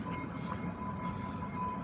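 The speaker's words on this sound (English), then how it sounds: "Check out the train." A train shunting rail cars on a Sunday in the Exhibition neighbourhood, heard as a steady low rumble with a faint tonal whine, distant and continuous, without talk.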